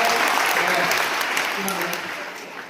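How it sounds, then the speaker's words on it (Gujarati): A school audience gives loud applause after a drama on quitting addiction, a thick wash of clapping that starts strong and slowly tapers off. "એમને માટે જોરદાર તાળી દેવી છે"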